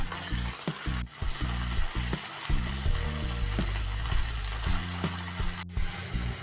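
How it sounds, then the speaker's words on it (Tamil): Vegetables frying in masala for veg kurma, a loud continuous sizzle up close, with repeated stirring knocks and scrapes against the pan. "காய் போட்டு நல்லா வதக்கிக்கலாம்"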